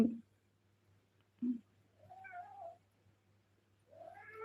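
A cat meows twice in rising, drawn-out calls, the second near the end, with a few short thuds and a faint low hum underneath; no talk.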